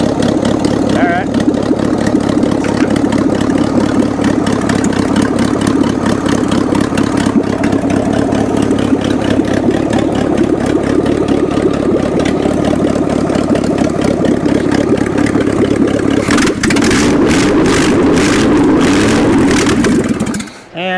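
The scrapped 350 engine of a 1979 GMC Heavy-Half truck runs continuously with a rough, loud idle and rhythmic pulsing before sputtering out at the end, with voices heard now and then.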